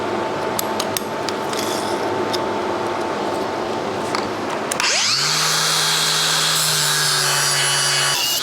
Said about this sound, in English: I'm gonna put a flap disc on here. And trim that out as best we can.